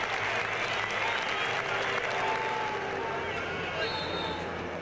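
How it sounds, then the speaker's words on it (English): A large crowd cheers and applauds continuously, a dense roar of clapping and voices filling the whole stretch at steady loudness. "the team walked out to cheers from their new home support"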